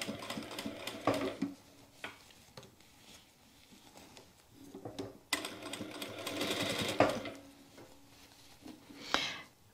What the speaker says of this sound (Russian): И вот так вот по изделию я сейчас прокладываю строчку.